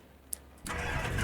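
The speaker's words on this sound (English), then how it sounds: "Cool, engine is up and running and sounding healthy." Piper PA-18 Super Cub engine starting in the X-Plane 12 flight simulator: a quiet hum, a brief click, then the engine catches and settles into a steady loud running drone.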